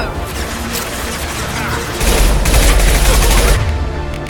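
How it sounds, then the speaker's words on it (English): A loud, close burst of impact-shot gunfire in Mass Effect 2 blasts in heavy, continuous volleys with booming low-end impacts that intensify midway before tapering off. "Firing an impact shot!"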